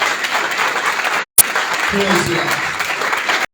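A church congregation breaks into loud, sustained applause at a Christian gathering, the clapping steady almost throughout apart from a brief gap, with a voice speaking briefly over it.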